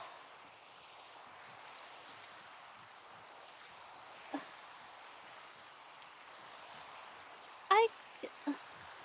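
Steady rain hiss falls throughout in Minecraft hardcore play, a soft even wash with a few brief louder clicks and sounds near the end.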